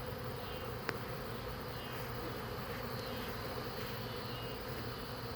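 Honey bee swarm buzzing steadily around a tree limb above a small two-frame nuc box, a dense continuous hum with one brief sharp click near the start, no talking.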